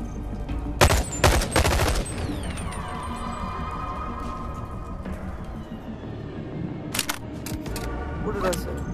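Rapid video-game gunfire in the VR game Bone Lab, several loud bursts of shots near the start and again later, with a player talking over the action.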